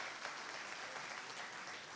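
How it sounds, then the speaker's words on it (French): Steady applause from a crowd at a Bénin lottery draw, the 2024 Tranche Commune Entente, a continuous dense wash of clapping for the full two seconds with a faint voice underneath. "Merci d'applaudir."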